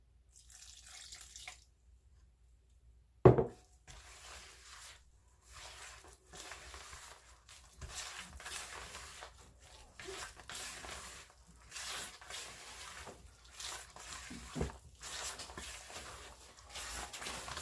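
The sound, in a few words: stirring coconut milk into sweet potato pudding mixture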